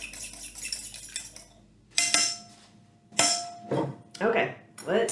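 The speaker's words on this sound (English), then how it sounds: "I need to. Beat this egg." A fork or whisk clinks against a bowl while beating an egg for egg wash, several bright metallic chinks in uneven bursts with short pauses between, close and fairly loud.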